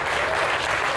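Steady applause from an audience at a community talk on building India's first nomad village, honoring the team; dense, continuous clapping fills the whole moment at an even, fairly loud level.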